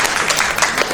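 An audience at a Question Time–style debate on legal aid applauds, a dense, loud wash of clapping lasting under a second.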